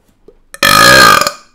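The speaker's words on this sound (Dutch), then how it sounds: "Moet ook iemand die een boer kan laten op dat moment." One loud, close burp from a person that lasts about half a second with a rough, buzzing tone, heard alone after a moment of near silence.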